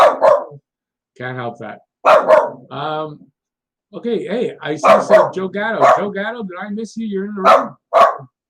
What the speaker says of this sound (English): There's a dog outside barking,